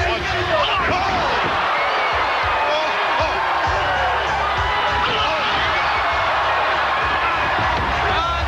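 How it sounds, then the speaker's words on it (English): A capacity crowd at a 1993 WWF wrestling arena cheers for the tag team Men on a Mission, a dense, continuous roar of voices and whoops that never lets up, with talking mixed into it. "Tremendous reaction from this capacity crowd for men on a mission"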